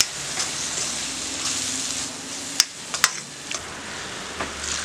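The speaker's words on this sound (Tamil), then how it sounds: "நல்லா பச்சை வாசன வர வரை எண்ணெயிலே வதக்கி விட்டுருங்க" Coriander and chili powder sautéing in oil for a spicy Chettinad crab gravy, a soft sizzle with a few sharp spoon clinks against the pan, close and quiet, with no talk.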